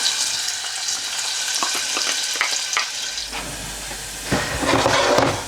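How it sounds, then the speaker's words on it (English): Onions sizzle in hot oil for Punjabi pakora kadhi, a steady close frying hiss with stirring clatter, growing louder near the end. "just add your onions straight in"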